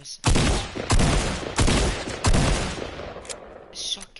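In the Fortnite video game, a shotgun fires four loud, booming blasts at roughly even intervals, each decaying quickly, with a faint click near the end.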